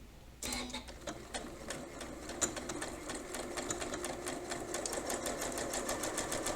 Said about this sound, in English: seam that I'm going to sew is going to be 1/4 inch from the edge